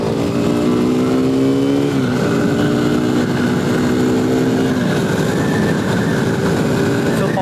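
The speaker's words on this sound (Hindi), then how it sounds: "अभी करता हूँ मैं रेफ।" A 2020 KTM RC 200 BS6 motorcycle with a 200 cc engine revs loudly and close, its pitch climbing and holding in a few drawn-out pulls, with a drop and shift partway through, with no one speaking.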